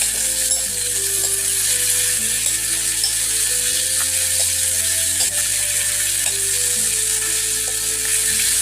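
Chicken curry cooks uncovered in a pan, giving a steady, continuous sizzle and hiss close by, with faint tonal sounds in the background.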